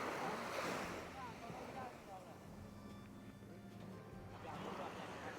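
Soft surf at Lamai Beach in Thailand, with faint waves swelling at the start and again near the end, quiet and distant throughout.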